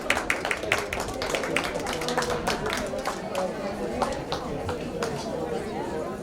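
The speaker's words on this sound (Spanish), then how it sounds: "por favor demos un fuerte aplauso para la primera de nuestras ponentes" An audience applauds the first panelist at a Book Day round table in Chapingo, with scattered distinct claps under a constant murmur of chatter.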